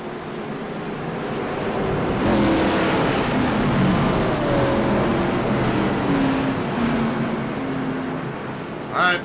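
Race car engines roar together at the Phoenix race, a dense, loud, continuous drone with gliding pitch shifts as cars pass, ending in a brief sharp burst.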